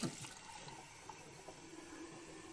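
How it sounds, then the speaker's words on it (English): Sacramento tap water pours in a soft, steady hiss and trickle, faint and close, with a brief splash at the start and no talking. "we're going to take a little bit of tap water. This is Sacramento tap water."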